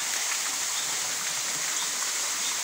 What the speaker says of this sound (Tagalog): lagaslasan to mga idol. Ibaba ito ng talon. Kaya malakas ang ingay.